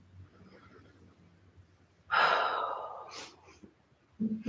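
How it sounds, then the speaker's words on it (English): A single deep breath during a yoga session: a long, close exhale of airy rushing after a quiet stretch, followed by a short soft intake at the end. "Taking another deep breath."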